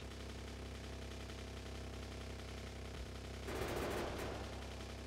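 Gunfire aimed at a tree in the game Factorio, a rapid automatic burst lasting about a second over a constant low machinery hum.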